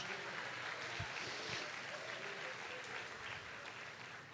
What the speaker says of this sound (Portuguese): Aplauda e glorifique a Jesus.